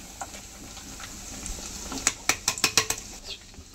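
Masala being stirred into Telangana-style chicken pickle: a spoon scrapes and then knocks against the pot in a quick run of about seven sharp clinks, set against a quiet bubbling background.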